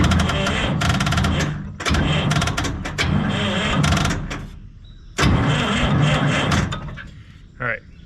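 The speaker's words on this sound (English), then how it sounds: "Got a good crank there now." Starter on a John Deere diesel crawler loader cranks in long bursts, with a pause and another long crank before it stops, followed by a short clank.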